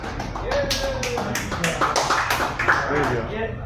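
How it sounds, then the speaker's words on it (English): A small comedy club audience at an oyster bar claps in scattered, uneven bursts, individual hand claps standing out close by while people talk and cheer over them. "one more round of applause for my good friend from Washington, D.C., John Meacham."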